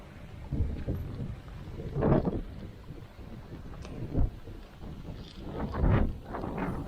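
Gusty wind buffets in uneven bursts, roaring low and rough with several strong surges and rumbling noise between them.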